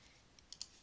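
A computer mouse gives two quick, faint, crisp clicks close together against a quiet background.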